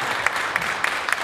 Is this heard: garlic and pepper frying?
no